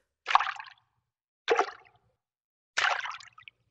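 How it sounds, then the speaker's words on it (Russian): Three separate splashy plops of small stones tossed into water, each a short wet burst with a bubbling tail, spaced about a second apart against silence. "Планы У разрушились под звук булькающих камней."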